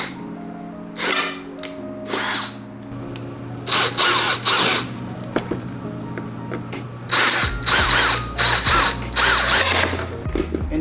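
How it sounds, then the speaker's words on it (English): A power drill with a 10mm bit drills off plastic welds on a Toyota Supra car door handle, several short whirring bursts separated by pauses and grinding contact noise, close up, with no talking. "you're gonna drill off the plastic welds"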